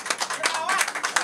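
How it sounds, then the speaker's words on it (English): A short burst of applause at a Kumasi event honouring visiting Nigerian actors, with sharp uneven claps cutting in and out around a voice speaking. "a big round of applause for the guy that made this very possible, Li"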